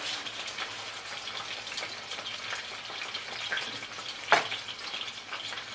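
Meat sizzling steadily in a frying pan as its skin browns, a close hissing crackle with one sharper pop partway through and no voices.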